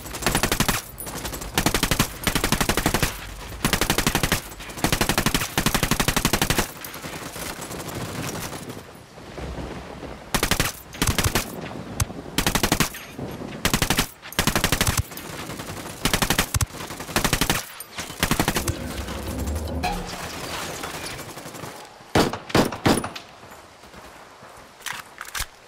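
Submachine gun fire in Ghost Recon Wildlands, rapid loud bursts repeating in quick succession, then shorter scattered volleys with brief pauses between them.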